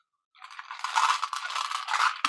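Beads shaken inside a handmade maraca make a close, continuous rattle of many small rapid hits, starting after a short silence and swelling slightly before ending with a sharper knock.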